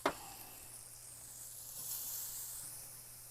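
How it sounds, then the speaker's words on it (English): Pork searing on a grill gives a steady, moderately faint hiss and sizzle that swells slightly midway, with a brief sharp tap at the start and no voices. "I love that sound on the grill."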